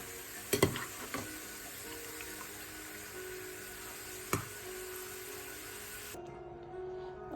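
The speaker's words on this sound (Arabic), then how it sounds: "في مقله فيها زيت غزير باش نحطوا معناتها البصل نتاعنا يتقلى شويه حتى يتبدل لونه ويولي لونه ذهبي" Onion frying in plenty of oil in a pan, giving a steady close sizzle with a few sharp clinks and taps of a utensil.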